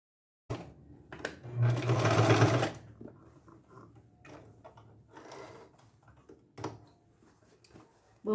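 A home sewing machine runs close by, stitching a fabric cover for a water jug in an uneven series of whirring bursts, with one longer, louder run early on and shorter stitches after it.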